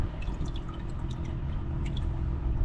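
Engine oil dripping from a truck's drain during an oil change, a steady series of small close drips plinking into a catch pan over a low background rumble.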